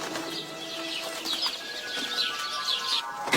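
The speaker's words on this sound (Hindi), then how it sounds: "दूसरे दिन सुबह में कोयल आकर कूकने लगती है।" A koel bird calls in a cartoon morning scene, with repeated bright, short chirping notes over a soft background, alone without speech.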